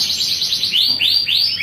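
A male canary sings loudly and close, giving a rapid series of bright chirps that turns into repeated sweeping whistled notes with a steady rhythm.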